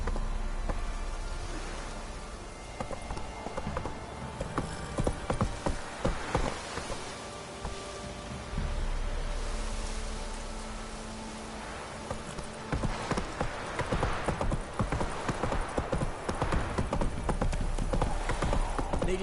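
In The Witcher 3 video game, a horse gallops with rhythmic clip-clop hoofbeats that surge and ease across the stretch, fairly close, with faint background noise like rain.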